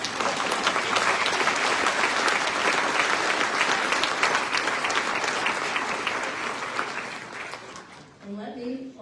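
Audience at the 2025 New Mexico State of the State address breaks into sustained applause, a dense roar of clapping across the hall that fades near the end as a voice returns.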